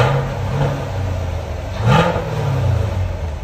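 Close by, a 2021 Chevy Camaro LT1 6.2L V8 with stock exhaust idles with a steady throaty rumble, then blips the throttle once in a quick rising rev before dropping back to idle.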